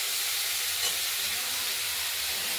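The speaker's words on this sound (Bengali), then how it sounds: "আমরা নুন হলুদ দিয়ে ভেজে নিচ্ছি" Flat beans fry in a pan with salt and turmeric, a steady, dense sizzle and hiss that carries on without a break, close and loud, with no voices.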